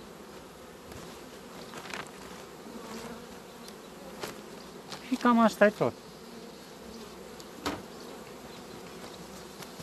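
Honey bees crawling on the hive frames of a strong colony, a soft continuous buzz close by with a few louder passing drones and someone speaking briefly.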